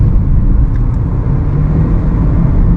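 A 2019 Jaguar E-Pace engine accelerates hard in dynamic mode using paddle shifters, a steady loud low rumble heard from inside the cabin with no talk.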